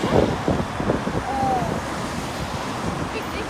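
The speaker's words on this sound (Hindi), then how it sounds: "ठंडी ठंडी हवा चल रही है" A cool wind blows across an open square in Bishkek under overcast skies, buffeting the microphone with a steady, rumbling rush that swells slightly at the start.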